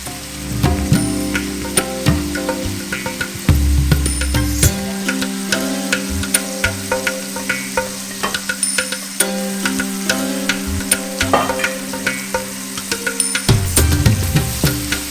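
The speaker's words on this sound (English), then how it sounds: "Keep stirring this and you'll find it starts to stick a little bit to the bottom of the pan." Spices, peppers and salt stirred in a frying pan for chicken jalfrezi, with a steady loud sizzle under repeated scraping and clattering spoon strokes throughout, no voices.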